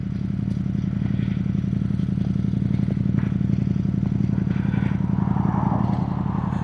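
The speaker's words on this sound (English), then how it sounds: "Even that deep thud on tick over is just fantastic." A Ducati Panigale on its stock exhaust idles close by, a steady, deep, rhythmic thudding that runs unbroken throughout with faint mechanical clatter on top.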